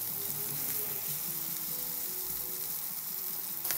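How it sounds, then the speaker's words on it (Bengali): Prawns fry in a hot pan with a loud, steady sizzle and crackle that holds evenly throughout, close by, with no voices. "আমি চিংড়ি মাছগুলো ভাজিয়ে ফেলবো"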